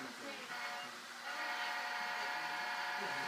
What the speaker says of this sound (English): the horn button will play the horn as long as you hold the button down